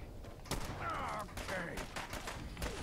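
Gunfire in Fallout 4 crackles as a rapid burst of shots, fairly faint and brief, with a voice speaking quietly underneath.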